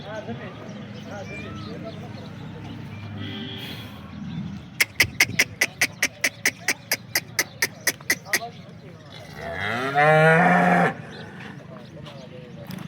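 A cow moos loudly and close near the end while cows are loaded onto a vehicle, after a steady run of sharp rhythmic clacks and a low murmur of farmyard background noise.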